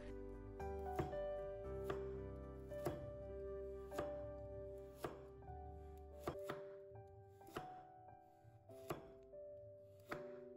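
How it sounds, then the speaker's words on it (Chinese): A knife slices a carrot into thin pieces on a cutting board, a step in making stir-fried instant noodles. Around a dozen crisp, evenly spaced chops sound over steady background music. "把胡萝卜切成薄片，切片的时候尽量切薄一点，不要切得太厚。"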